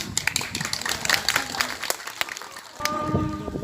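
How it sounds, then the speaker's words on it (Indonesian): Applause for a student council candidate at a high school vision-and-mission event: a crowd of listeners claps steadily, moderately loud and close, and a voice speaks over the clapping near the end. "sekali lagi kita berikan tepuk tangan"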